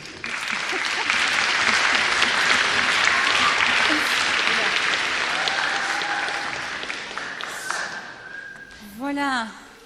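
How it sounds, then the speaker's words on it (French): A large audience at an armistice commemoration in the Belgian Senate claps in a sustained, dense round of applause that fades near the end, then a brief whistle-like tone rises over it. "sous vos applaudissements"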